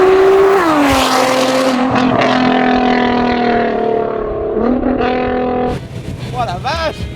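Loud engine of a 700 hp Nissan GT-R on a race track, revs climbing then settling with gear changes, close and continuous, with voices speaking over it and sweeping whooshes at the end.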